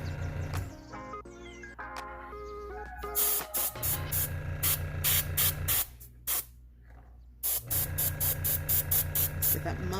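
Short bursts of spray paint hiss repeatedly over a model horse being painted, several separate blasts with brief gaps, close and fairly loud, with a low steady hum running underneath.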